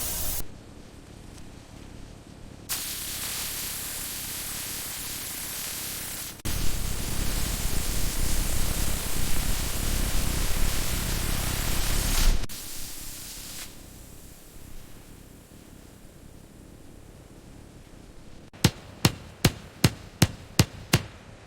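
Tack welding on a steel ship hull section: long stretches of harsh, hissing arc crackle at moderate loudness, broken by brief pauses, ending with a quick series of sharp metallic clicks.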